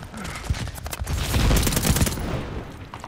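Gunfire in the Call of Duty Vanguard video game, a rapid burst of crackling automatic shots building to a dense volley in the middle, then tapering off, with faint voices underneath.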